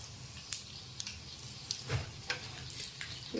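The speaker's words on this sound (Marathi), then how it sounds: "दोन तीन चमचे तेल गरम केलं आहे त्यामध्ये आता मी हे मोहरी टाकते" Mustard seeds, then chilli pieces, crackle in a few spoonfuls of hot oil. Sharp scattered pops sound every half second or so over a faint, low sizzle, close and fairly quiet.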